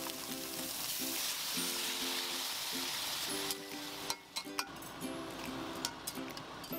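A garlic and minced meat sauce for an eggplant dish bubbles and sizzles steadily in a pan, with a few sharp utensil clinks against the pan toward the end.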